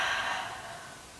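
A slow, soft exhale during a beginner Pilates mat breathing exercise, a steady airy breath that fades gradually over about a second, heard alone with no talking.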